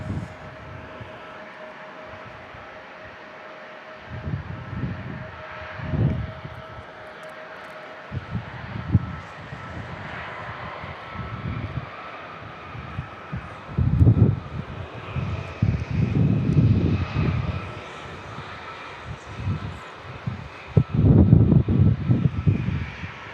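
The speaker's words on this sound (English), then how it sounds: "A321neo landing here for Delta Airlines." A Delta Airlines Airbus A321neo landing at San Diego airport, its engine rumble swelling and fading over wind noise, growing louder toward the end.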